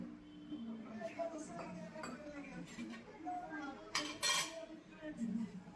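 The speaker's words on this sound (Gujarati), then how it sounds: "વાસણ ઘસી લઈએ." Dishes and utensils being scrubbed and washed, with close clinks and clatters of metal pots and cutlery, a few sharper knocks and faint voices in the background.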